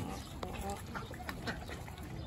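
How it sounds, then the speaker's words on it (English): Ducks at a Texas zoo pond quack repeatedly while crowding in to grab fish food, a steady scatter of nasal calls over outdoor background noise and nearby voices. "The ducks are trying to steal the fish food."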